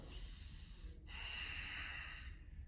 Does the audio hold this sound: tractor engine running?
no